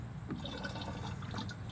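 Two ounces of MicroGreene liquid poured into a mix outdoors on a hard surface, a soft, steady liquid wash and trickle heard faintly and alone.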